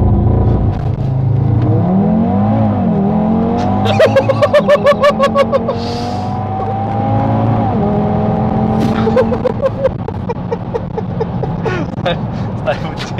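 Audi TT RS launching and accelerating hard from inside the cabin, the engine roaring up through the revs with quick gear changes and rising pitch, while people talk over it.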